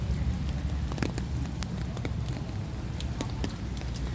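Rain falling during a walk at Burnham Lake: a steady, dense hiss of drops with scattered sharper ticks of water hitting nearby surfaces.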